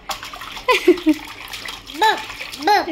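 A small child splashes and plays in bath water at home, with splashy sloshing bursts while a child and an adult speak over it.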